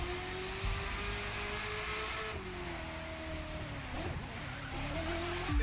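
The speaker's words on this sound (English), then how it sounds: "Got a bit of a drift there, but it was all good." A car drifting in The Crew 2, its engine droning steadily while tires squeal and skid in a long continuous slide, heard closely with no voices.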